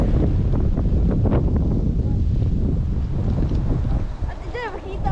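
Strong gusty wind roars across an open area near a lake in wintry Vaasa, buffeting the microphone with loud low rumbling throughout, while voices talk over it.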